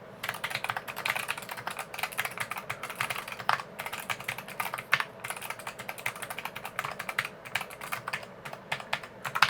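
Continuous typing on a small, heavy GMMK Pro modular mechanical keyboard, rapid close keystrokes clattering steadily with a fairly dull, unbright tone and no voices.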